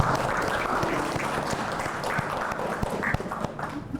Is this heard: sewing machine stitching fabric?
no